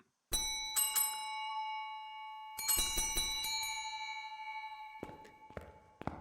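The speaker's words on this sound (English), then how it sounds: "I don't know if those bait the ghost, if you can ring it and get the ghost to go that way" Bells rung in the horror game Phasmophobia, several bright dings in a loose sequence with long ringing tails, clear and alone in an otherwise quiet space.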